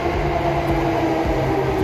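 A Chuo-Sobu Line local train at a station in Chiba, Japan gives a loud, steady rumble and hum close by, with no voices.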